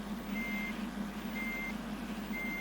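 Bus reversing beeps in the Bus Simulator Ultimate game sound three evenly spaced high tones, steady and clear, over a constant low engine drone, with no voices.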